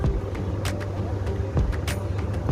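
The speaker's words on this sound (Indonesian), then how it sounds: "Bus Yuanda Prima ini berangkat dari Bukit Tinggi" A Yuanda Prima bus idling at the Terminal Bare Solok in West Sumatra, a steady low engine rumble with short hisses and clanks from around the terminal and no clear talk.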